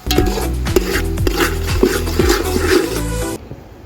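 A spoon or spatula stirs and scrapes through potato poha with sugar and curry leaves in a pan, making rhythmic clattering strokes close up that stop abruptly near the end.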